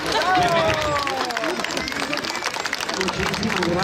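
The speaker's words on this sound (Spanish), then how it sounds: "El aplauso para despedir a Gallo." Applause and crowd noise from a Mexican charreada rodeo audience rise strongly at the start and carry on throughout, with a voice talking over the clapping.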